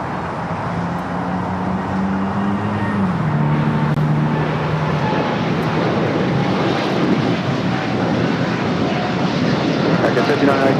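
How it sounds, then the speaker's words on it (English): A Boeing Dreamliner jet airliner at LAX gives a steady, loud engine roar that swells slightly over time, mixed with distant traffic noise, while a voice talks over it. "So I think this is the Dreamliner that was sitting next to the Stars and Stripes."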